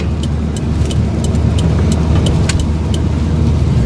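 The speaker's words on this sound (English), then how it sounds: "In my old Chevy truck." An old Chevy truck drives along a road, its engine and tire noise forming a loud, steady rumble from inside the cab, with faint rattling clicks over it.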